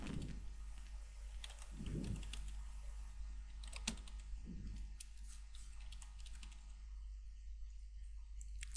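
A project name being typed on a computer keyboard while setting up a Visual C++ 6.0 project: quick light keystrokes in short bursts, close-miked over a low steady hum, with a few muffled thumps and no talk.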